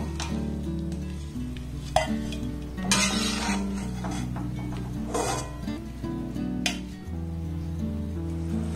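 Sweets fry in oil over a low-medium gas flame, a steady sizzle broken by clinks and scrapes of a utensil stirring in the pan.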